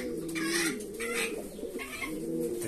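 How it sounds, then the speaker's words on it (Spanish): A pigeon coos close by in repeated low, rolling phrases, with a brief higher bird call over the murmuring coos. "Mira, el palomo."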